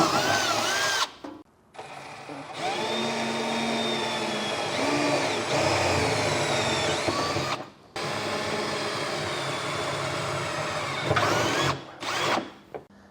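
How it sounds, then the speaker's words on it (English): A power drill with a pilot bit bores holes in the frame of a 2024 GM truck for an underbed gooseneck trailer hitch, loud close whining bursts that rise and fall in pitch, broken by brief pauses. "take that pilot bit and run it dead center in these holes"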